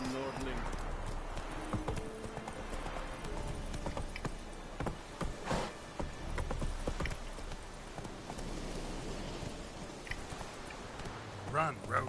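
Hoofbeats of the horse Roach galloping in The Witcher 3 video game, a steady clip-clop rhythm running throughout, with people talking over it.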